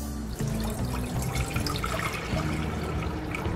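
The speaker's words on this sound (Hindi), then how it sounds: "सबसे पहले हम पैन में पानी ऐड करेंगे, 4 से 5 कप" Four to five cups of water pour into a cooking pan for a home herbal cough remedy, a steady splashing stream running continuously at close range without talk.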